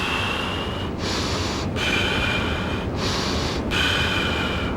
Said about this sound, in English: Circular breathing basically involves breathing in through the nose, blowing out through the mouth